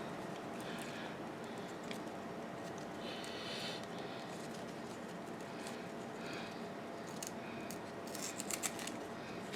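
Scissors snipping the leaves and stems of a Ctenanthe lubbersiana houseplant, soft crisp cuts over a faint steady background, with a quick cluster of sharper snips near the end.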